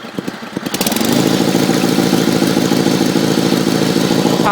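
A 1974 Sears Suburban SS16 garden tractor engine starts with a few sputtering pulses, then settles into a loud, steady, close idle that holds evenly to the end.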